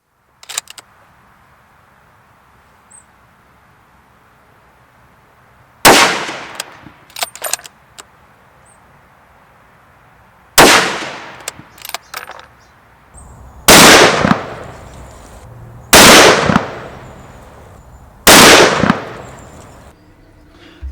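Five loud, sharp rifle shots from a Steyr Mannlicher SM12 in .308 fired off a rest bag, each crack followed by a brief echoing decay, spaced a few seconds apart after a quiet stretch with faint handling clicks.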